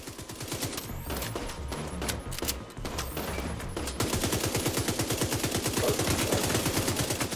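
Rapid bursts of automatic gunfire in the video game The Division 2 rattle continuously, with dense overlapping shots intensifying into a steady machine-gun stream.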